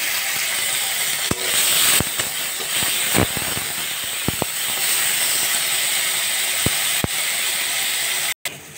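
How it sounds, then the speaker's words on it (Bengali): Green beans fry in a pan with a steady sizzling hiss, broken by occasional sharp clicks and scrapes from stirring. "এবার বরবটিগুলো ভালো করে ভাজা করে নেব।"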